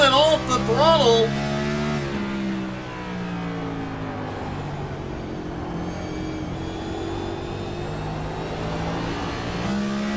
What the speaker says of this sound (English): Kirk is staying in fourth gear, being easy on and off the throttle.